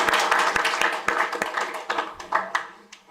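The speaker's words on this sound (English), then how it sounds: "I'd just like to have a round of applause for the sponsors" Round of applause for event sponsors at a composting gathering: scattered hand claps from a modest group, lively at first and then thinning out to a few isolated claps.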